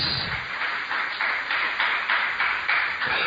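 A church congregation claps hands in a steady, rhythmic beat, around ten strong unison claps at an even pace, loud and close, with no speech over it.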